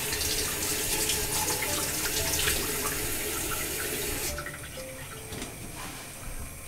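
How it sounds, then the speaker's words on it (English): A kitchen tap runs steadily while a Scotch bonnet pepper is rinsed under it, a close rushing splash that drops to a softer flow partway through, with no talking. "we've got our Scotch bonnet, which I'm just going to rinse off"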